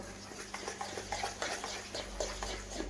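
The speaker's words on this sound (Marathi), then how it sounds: "आणि अशा प्रकारे मिक्स करून आपल्याला हे बॅटर" Chocolate cake batter stirred by hand in a bowl, a soft wet scraping with repeated spoon or whisk strokes against the sides, steady and close, with no voices.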